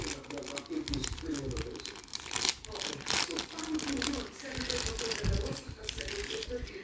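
A Hot Wheels toy car is pulled from a crinkling plastic bag, giving bursts of sharp crackling and rustling that rise and fall over several seconds while a person talks over them.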